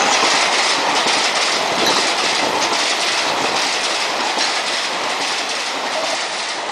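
An Alco model locomotive from Indian Railway models runs on its track with a loud, steady, close rattle and whir that hardly varies throughout.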